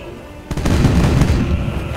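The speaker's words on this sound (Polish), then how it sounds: "Następne działo wybuchło" A sudden heavy boom erupts from a cannon in the game Age of Pirates: Caribbean Tales, followed by a rumbling, crackling explosion that lingers loudly.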